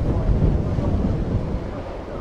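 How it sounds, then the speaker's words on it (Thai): Strong wind and waves on the Mekong River, a loud, steady roar of buffeting wind against the microphone with rushing water underneath, close and constant. "เพราะว่าคลื่นมาแรงลมมาแรงครับ"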